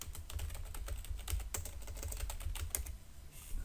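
Typing on a computer keyboard: a steady, fairly quiet patter of individual key clicks at an irregular rhythm over a low background hum.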